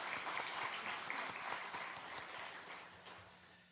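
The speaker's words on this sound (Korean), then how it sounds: "우리 박수 한번 하겠습니다." A church congregation at a New Year revival service claps together, a dense wash of applause that stays fairly even and fades slightly toward the end, heard at a moderate distance.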